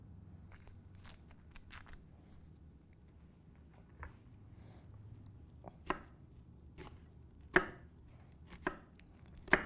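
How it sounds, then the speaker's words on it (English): A knife roughly chops a shallot on a cutting board in a quiet kitchen, giving irregular, close, crisp taps that grow louder and more spaced toward the end. "we're just going to give some nice little dices on our shallot"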